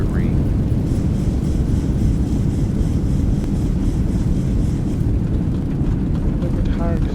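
Airliner thrust reversers roaring on landing in the X-Plane 11 flight simulator, a steady loud broadband rumble that holds throughout, with faint brief tones near the start and end.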